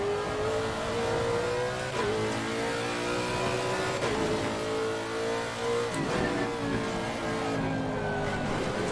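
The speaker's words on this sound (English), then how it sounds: "I love the sound of Lexus, don't you guys?" A Lexus race car engine in Assetto Corsa Competizione revs hard and close, climbing through the gears with a sharp shift roughly every two seconds. The rising, droning tone continues with no talk over it.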